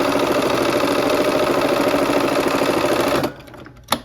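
A sewing machine runs steadily and loudly, stitching a quarter-inch quilt seam with a fast regular clatter, then stops abruptly near the end, leaving a brief quiet and one small click.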